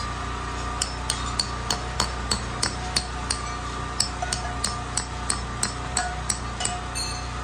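A hammer taps wedge anchors into place while building calf pens, giving a steady series of sharp metallic strikes, around twenty evenly spaced over several seconds, close and clear above a low background hum.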